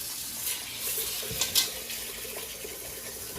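Water poured from a tap into a pot of washed mung beans, a splashy trickling flow with a couple of sharper splashes, close and moderately loud, no speech.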